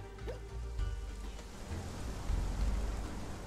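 Rain falls in the video game Conan Exiles, Isle of Siptah: a steady, soft broadband hiss with low rumbling swells, heard alone without talk.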